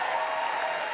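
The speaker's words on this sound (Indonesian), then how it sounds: "Sekali lagi dong tepuk tangan." Studio audience applause at a live televised talk show in Jakarta, a continuous dense roar of clapping throughout the short moment.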